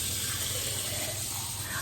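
Water being poured into a pot of food while cooking a home recipe, a steady close gush of liquid running throughout with no talk.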